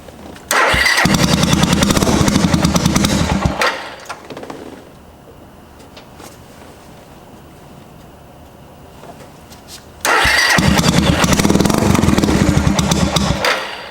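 A previously stolen Suzuki GZ250 motorcycle engine with its idle set too low starts and runs loud and close, cuts out to near silence for several seconds, then fires again and settles into a rough, steady idle.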